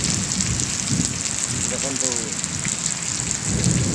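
Heavy monsoon rain pouring steadily outdoors in a village, with low rumbles of thunder rolling underneath, a continuous dense hiss throughout and a brief spoken word partway through.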